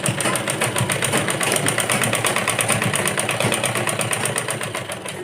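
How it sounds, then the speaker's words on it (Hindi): Sewing machine stitching along the edge of a girl's skirt, a fast steady mechanical clatter with even rhythmic needle strokes, close and continuous, slowing slightly near the end. "इस तरह से इसके किनारे पे सिलाई लगा लेंगे।"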